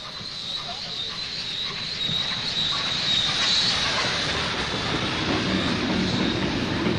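A train rumbles past with a high metallic squeal over a steady low roar, sounding moderately close and continuous.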